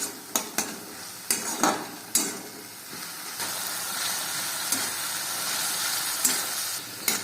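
Navratan curry mixture is stirred in a hot pan, a continuous hiss of sizzling broken by several sharp spoon knocks and scrapes against the metal, close and loud.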